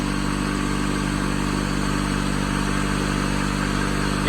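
A car engine with its seized AC compressor bypassed and the power steering pump working, running steadily at idle, a smooth, even hum with no revving, close up and alone.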